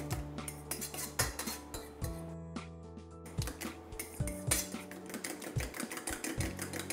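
A fork beats eggs in a bowl for a Spanish tortilla, rapid rhythmic clinking and tapping against the bowl, close and fairly quiet.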